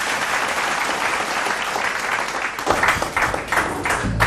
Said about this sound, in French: je vous demande d'applaudir fort, mesdames et messieurs, s'il vous plaît, pour nos 4 candidats